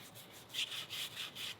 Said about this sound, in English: scrub out some of this rotted wood with a hard bristled wire brush